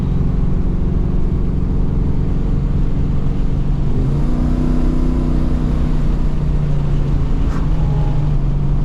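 A VN Commodore with an LS1 V8 drives along with a steady, loud engine drone and road rumble that rises in pitch as it revs up around the middle, then settles back into cruising.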